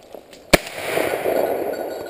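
A single sharp shotgun blast during a bird hunt in open country, a sudden crack that fades quickly into quiet background noise, heard at moderate distance.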